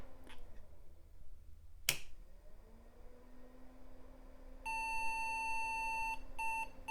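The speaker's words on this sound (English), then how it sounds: "Ooh, I've never been so happy to hear error codes." An IBM PC XT 5160 with a fault sounds its error beep codes: a click or snap, then steady electronic tones starting near the end, one long beep followed by short repeated beeps, clear and alone.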